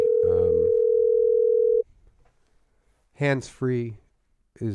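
A steady telephone dial tone sounds loud and alone for nearly two seconds while a call is placed, then cuts off; after a pause, people talk briefly.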